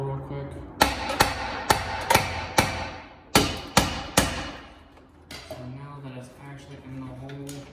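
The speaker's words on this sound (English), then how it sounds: "I'm going to try to pound this through the hole real quick" A wall heater part being pounded through a hole in sheetrock: about nine sharp, ringing hammer blows in an uneven rhythm, close and loud, then quieter shuffling and handling.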